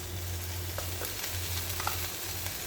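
Corned beef from Brazil is added to browned onions in a pan and fries with a steady dense sizzle, close and even, with a few faint scraping stirs mixed in.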